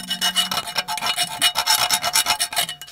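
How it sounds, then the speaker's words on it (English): A metal file rasps burrs off Jeep bushings in short, rhythmic back-and-forth strokes, about a dozen close, loud scrapes with no talking. "I'm just gonna take a file."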